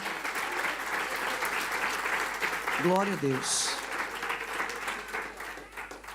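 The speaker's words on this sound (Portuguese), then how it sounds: "Dá um aplauso bem bonito para o Senhor." A congregation applauds during a Portuguese-language church service: steady, full clapping throughout, with a voice briefly speaking over it midway.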